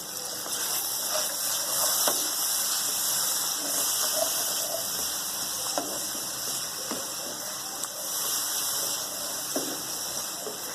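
Water is poured into chicken masala frying in a pan, giving a steady loud hiss and sizzle that continues evenly throughout, with faint clinks and no voices.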